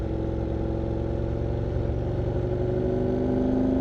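Steady mid-pitched engine drone of a car or motorcycle, running continuously and fairly loud, with a faint rise in revving toward the end and light clatter, no voices.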